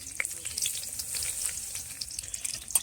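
Green chilli and onion hit a hot wok at a night-time garden picnic, giving a soft, continuous sizzle with crackling spits and stirring scrapes, fairly faint and without voices.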